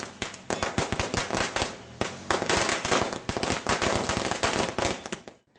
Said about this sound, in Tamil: பட்டாசு வெடித்து கொண்டாடினர்.